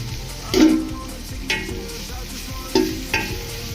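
Vegetables frying in a pan make a low steady sizzle, broken by four louder spoon scrapes and stirs spaced unevenly through the stretch, close by and without speech.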